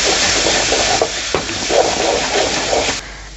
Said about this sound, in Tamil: இதை வந்து நம்ம வதக்கிட்டு நல்லா மிக்ஸ் பண்ணிக்கலாம்